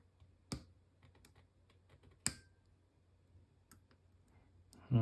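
Small sharp clicks from lock pins being picked on a challenge lock, a few distinct ticks spread irregularly over quiet background, with a louder click near the start and another mid-clip.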